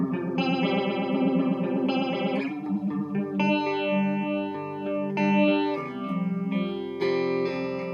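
A guitar played through an effects pedal set to 25 percent gives a thick, warm, ambient tone with chorus-like shimmer and echo, sustained chords and notes ringing continuously with no talking.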